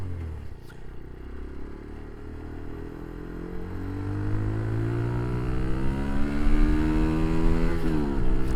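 A Daelim Roadwin 125 motorcycle accelerates onto a faster road, its engine note rising steadily in pitch and growing louder over several seconds, with rising harmonic whine and a steady, close drone throughout.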